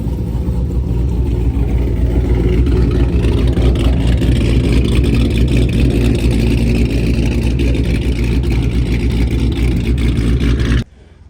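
A supercharged R/T engine revs hard and steadily for about eleven seconds, a loud, close, continuous roar with no voices, then cuts off abruptly at the end.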